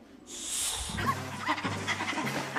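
A dog in a French TV series scene barks sharply, then yips and whimpers in quick, uneven bursts. The sounds are close and fairly loud, over a faint low hum and without clear speech.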